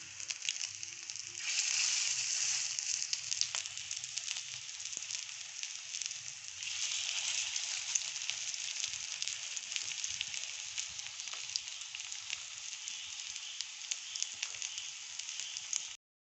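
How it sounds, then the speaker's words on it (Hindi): Chapli kababs frying in hot oil over a low flame give a steady, even sizzle that holds without pause from start to end, close and clear with no talking. "ऑयल हमारा गर्म हो चुका है। अब इसके ऊपर जाएंगे चपले कबाब।"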